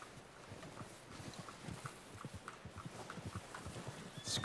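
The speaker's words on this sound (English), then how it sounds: "I'm gonna get this packed on my horse." Horse hooves clip-clop at a steady walking pace in Red Dead Redemption 2, a faint, regular rhythm of soft thuds over quiet game ambience.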